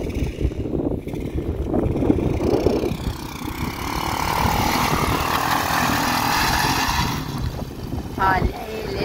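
A motorcycle engine drones on a high-altitude outing at about 4,000 metres, holding a steady, fairly loud hum through the middle of the stretch. Voices can be heard over the start.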